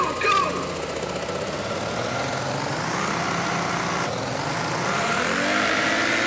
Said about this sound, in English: And the car's engines kind of rev, like, kind of like you'd expect.